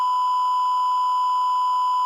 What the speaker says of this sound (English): Sorry, that was my alarm clock.